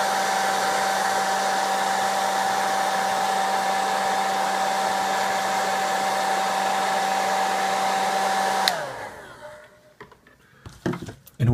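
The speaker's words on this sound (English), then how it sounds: "I'm heating the thermistor with a hairdryer" A hairdryer blows hot air onto a thermistor, a loud steady whine with a constant pitched hum that runs unbroken for about nine seconds, then abruptly cuts off and spins down, leaving a few faint clicks and handling noises.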